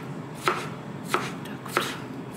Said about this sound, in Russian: Я еще хочу огурчики соленые нарезать. Как их нарезать? Просто так вот кругляшочками нарежу